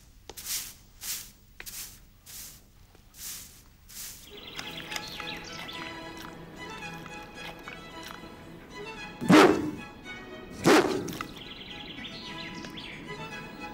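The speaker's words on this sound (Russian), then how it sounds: "Гавкает пес." A dog barks twice, loud and close, over a background of clattering printing presses, after a series of about six regular knocking thuds at the start.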